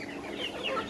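Chickens cluck on a poultry farm that keeps white hens, golden hens, colour birds, layers and native hens and roosters, a dense, steady chorus of overlapping clucks close by with no voices.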